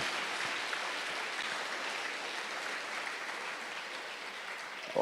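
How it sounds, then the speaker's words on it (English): A round of applause at a Nigerian international health regulations evaluation meeting, sustained even clapping from a room full of attendees, continuous and fairly loud, with a brief bump at the end. "I think this country deserves a better round of applause for this great feat."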